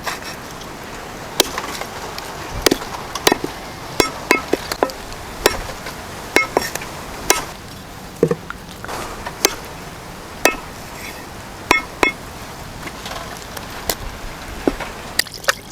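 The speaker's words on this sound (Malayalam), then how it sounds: "പക്ഷെ നമ്മൾ ലെഗ് പീസ് ചെറുതായി പീസായി കട്ട് ചെയ്തിട്ടാണ്" Turkey leg pieces are chopped for curry outdoors in a village kitchen, with sharp, regular cleaver strikes on a board repeating about once a second over a steady background hiss.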